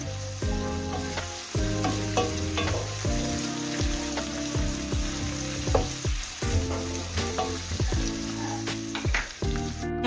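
Ingredients sautéing in a pan for vermicelli biryani, a loud, close sizzle broken by repeated clanks and scrapes of a metal spoon stirring against the pan, no voices.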